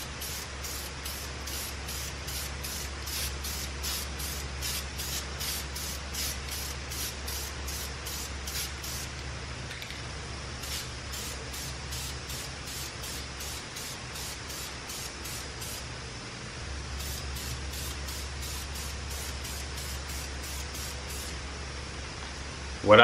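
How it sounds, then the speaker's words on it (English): Aerosol spray can misting paint onto brake calipers in short repeated bursts, a steady hiss pulsing on and off with brief pauses, close and fairly loud over a low constant hum. "I try to switch up the angles that I'm spraying at"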